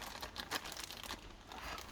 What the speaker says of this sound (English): I can't even put the tires in the plastic bag